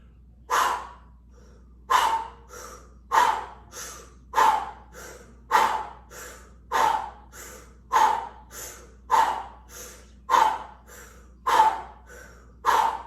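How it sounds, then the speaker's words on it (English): Deep rhythmic breaths in a guided breathing exercise done with the arms held up, about twelve strong inhale-exhale cycles at a steady pace of roughly one per second, close and loud with no talking. "we're going to be inhaling and exhaling."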